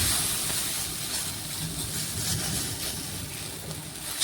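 Okra frying in a covered pan, a steady close sizzle with soft crackling that holds at an even level throughout.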